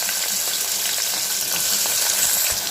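About 100 grams of chopped onions fry in hot oil, giving a loud, dense, unbroken sizzle up close, with soft scraping and stirring sounds running underneath.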